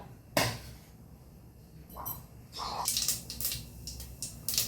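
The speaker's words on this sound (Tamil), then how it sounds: "இப்போ பார்த்தீங்கன்னா கடுகெல்லாம் பொரிஞ்சிருச்சு" Mustard seeds spluttering and popping in hot oil while tempering for broken matta rice upma, with a faint irregular sizzle that turns into a denser run of close, sharp crackles in the second half.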